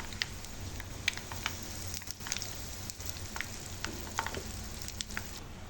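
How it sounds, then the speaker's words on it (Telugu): Dried red chillies crackle and spit in hot oil for a tempering, a dense close sizzle scattered with sharp pops and bursts throughout. "అవి ఎండుమిరపకాయలు వేగుతున్నాయి"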